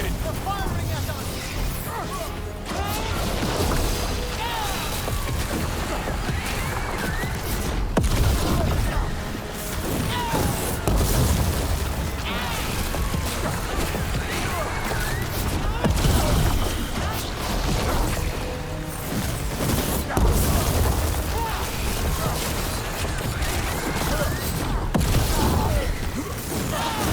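Enemies fire on the party during a battle in the video game Dragon Age: The Veilguard, with dense crashes, bangs and bursts layered over continuous music, and characters talking throughout.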